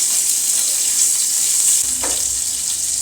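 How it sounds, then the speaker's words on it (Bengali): A hilsa fish head fries in hot oil, giving a steady, fairly loud bright sizzle throughout with a faint clink near the middle, no voices. "মাছটা আমার ভাজা হয়ে গেছে,"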